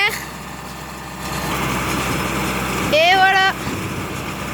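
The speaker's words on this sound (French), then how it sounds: "Voilà le bestiau avec le tracteur" A tractor engine runs steadily with a small hay baler in a field, a continuous mechanical drone under a brief spoken word, with a short rising whine near the end.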